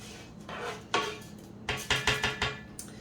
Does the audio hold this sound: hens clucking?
no